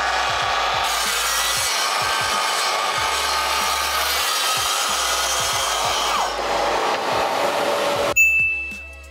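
A Festool TSV 60 saw cuts through laminated chipboard with a loud, steady, buzzing whine and grinding rasp that runs continuously for several seconds, then stops abruptly and leaves a brief fading ring.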